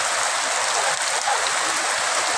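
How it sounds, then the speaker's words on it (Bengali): Heavy rain pours steadily in Satkhira, Bangladesh, at the Shibtola crossroads during a storm, a dense continuous hiss of drops drumming on surfaces, close and loud, with no voices. "দুপুরে 1:45 থেকে ব্যাপক বৃষ্টি"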